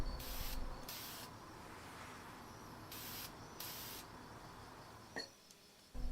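Acrylic clear coat from a hardware-store aerosol can sprayed onto a soft bait mold master, heard as several short hissing bursts of about half a second each, close and fairly quiet, with a faint click near the end.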